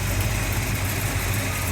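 A 1988 Chevy Monte Carlo SS with a 400 four-bolt-main engine, headers, Edelbrock carburetor and electronic ignition idles with a steady, low, throaty rumble, close and even throughout a brief stretch.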